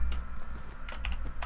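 Single computer keyboard key tapped over and over in quick, uneven clicks, each tap sharp and close, with a low steady hum underneath and no talking.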